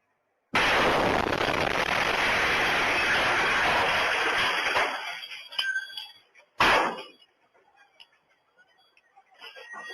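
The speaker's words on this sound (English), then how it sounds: "The moment of that detonation." Bomb detonation at a Mobil gas station on Regent Street in Guyana, recorded by a nearby CCTV camera: a sudden, loud roaring blast that rumbles for several seconds and fades, then a sharp second crack followed by faint crackling debris.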